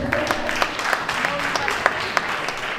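An audience at a commemoration event applauds in a steady, even patter of many hands, moderately loud and continuous throughout.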